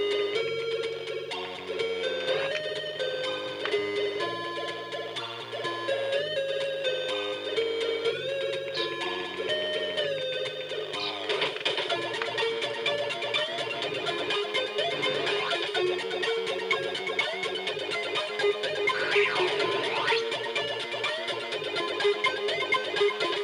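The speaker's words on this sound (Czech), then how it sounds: "Zvuky jsou na speakeru, na zabudovaném pípáčku." An Apple II's built-in beeper speaker plays Angry Birds game sounds: thin square-wave melody tones and blips that continue throughout, turning busier and noisier in the second half. No voices.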